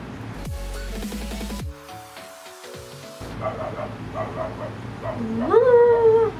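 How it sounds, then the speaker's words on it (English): A dog barks and whines several times, ending in a rising howl-like yelp, heard over music and background sounds. "Oh my god, that dog is so freaking cute."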